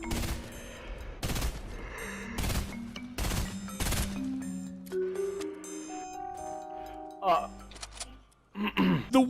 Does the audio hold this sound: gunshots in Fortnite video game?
yes